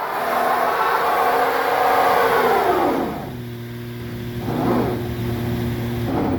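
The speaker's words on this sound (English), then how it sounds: "When you get him up in the revs, what happens, Stuntman?" A minivan's VTEC engine revs high and steady, then drops and rises again in shorter surges, close and loud.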